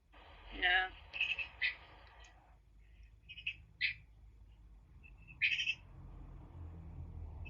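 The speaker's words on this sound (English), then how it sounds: "Is that your bird?" Several short, bright bird calls ring out in bursts outdoors, fairly close and loud, with a low background rumble and a voice briefly audible.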